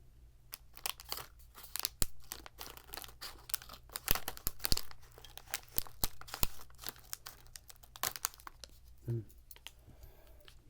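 A bag of dried crunchy raisins crinkles and rustles in close, quiet detail with irregular sharp crackles and crunches, then brief muffled chewing near the end, with no talking.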